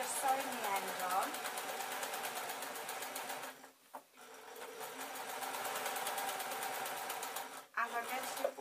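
A sewing machine stitches French seams on an infinity scarf with a steady, fast rapid-fire whir that runs for several seconds, pauses briefly twice, then starts again. It is close and loud, with light talk now and then in the background.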